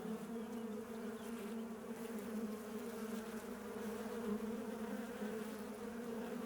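Honey bees hum steadily at an open beehive during a first beekeeping session, a dense, continuous buzz up close with a low drone and no talking.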